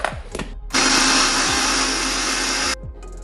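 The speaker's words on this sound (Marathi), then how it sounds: "आता याला मी मिक्सरमधून काढून घेते।" A kitchen mixer grinder whirs loudly and steadily for about two seconds while pulverizing Oreo biscuits into powder, framed by short bursts and lid clatter before and after.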